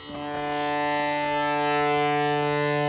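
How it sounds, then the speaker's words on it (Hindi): A tanpura plays softly: a steady, sustained drone with rich layered harmonics, holding one pitch and gently swelling in volume, no voices. "मैं थोड़ा सा तानपुरा साथ में चला देता हूँ, हल्की आवाज़ में अभी चलाया हुआ है।"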